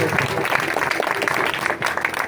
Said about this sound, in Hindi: जोरदार ताली में उसको वेलकम करेंगे